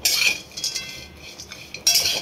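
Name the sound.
dry roasting coconut in a pan without oil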